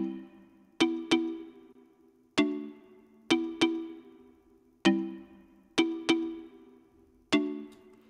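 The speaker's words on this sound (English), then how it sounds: "and this is the sound of the marimba." Marimba in an afrobeat beat: short, bright wooden mallet notes plucked out in a sparse syncopated pattern of single and doubled hits, alone and fairly quiet.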